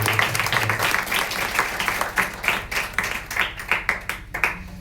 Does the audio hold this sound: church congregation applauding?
yes